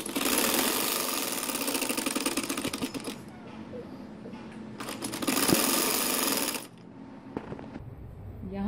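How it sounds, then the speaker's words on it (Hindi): A sewing machine stitches fabric on a poncha trouser hem in two fast, rattling runs of about three and two seconds. Quieter pauses with faint handling separate the runs. "इसको टर्न किए बगैर हम सिलाई लगाएंगे।"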